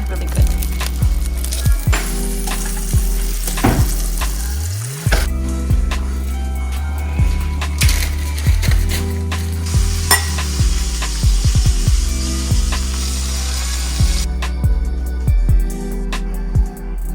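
Food sizzles in a pan while a utensil stirs and scrapes it in a steady repeated rhythm, close and fairly loud, with a brief rising tone partway through.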